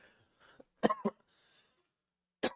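A couple of sharp, close coughs break a quiet moment, followed by another single cough a little later.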